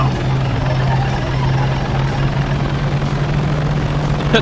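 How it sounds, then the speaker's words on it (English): Propeller planes, a biplane among them, take off in the military game Arma 3, giving a loud, steady engine drone that holds without a break. "Wait for the planes to take off."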